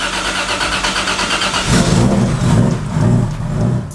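A rebuilt drift car's engine cranks and fires for its first start, catching partway through and settling into a loud, rough, uneven idle with a few throttle surges, close by and with no talking.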